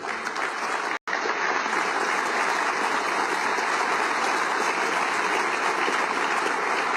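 Loud, sustained applause from a large crowd fills the whole stretch, a dense steady roar of clapping with one brief break near the start.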